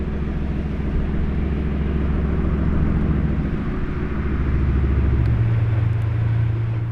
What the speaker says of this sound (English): Wow, that's a bold Urus SE!